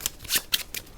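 Playing cards are shuffled by hand during a solo board game, three quick riffling bursts in about a second, close and fairly quiet.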